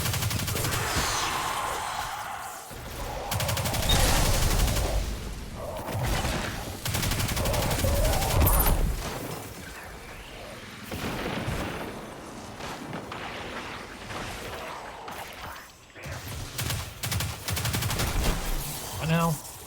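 Rapid bursts of video game gunfire from Destiny 2 crackle and rattle almost continuously, mixed with booming blasts and heavy, loud action sounds, while a voice speaks at moments over the shooting.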